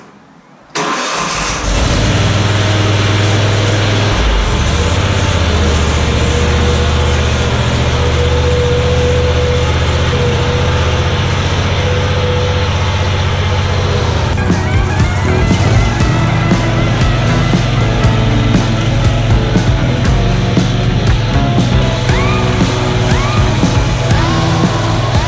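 A ZT-5400 zero-turn mower engine starts and then runs steadily at a loud, close, constant drone, with rattling and clatter building partway through.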